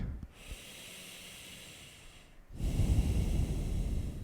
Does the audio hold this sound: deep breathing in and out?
yes